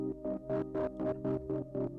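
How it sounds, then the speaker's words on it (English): A droning synth chord pulses in a steady rhythmic wobble from a beat-synced LFO, its brightness swelling and dipping about four times a second, loud and close with no voices. "I have a very cool beat synced LFO,"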